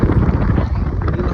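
Strong sea wind buffets the microphone at the Dona Paula jetty, a continuous loud low roar with gusting rises and falls, voices faintly mixed in.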